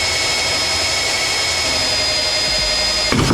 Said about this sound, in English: we're going to pre-drill these holes